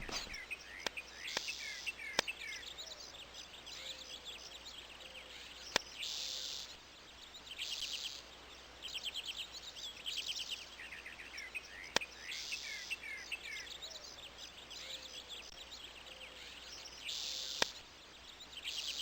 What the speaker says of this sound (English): A magpie is busy arranging its nest.